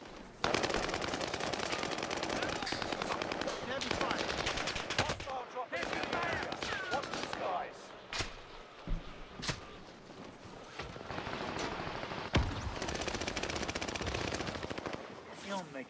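Heavy gunfire in a video game: long rapid machine-gun bursts, close and loud, broken by short pauses and single shots, with a voice shouting briefly over the barrage.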